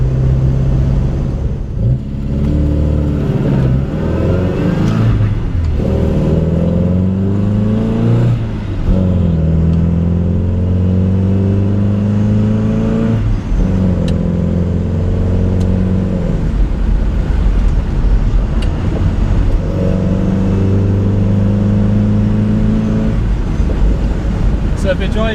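An MGB GT's engine drones steadily from inside the car on a back road, rising and falling through several gear changes with repeated accelerations, loud and close throughout, with no talking.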